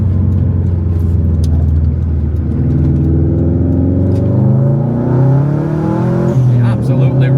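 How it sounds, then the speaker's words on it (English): Subaru WRX STI with a back box delete revving hard, a loud, continuous engine drone whose pitch climbs steadily before dropping and rising again near the end, with brief voices faintly underneath. "if you want to know what an STI sounds like with a back box delete"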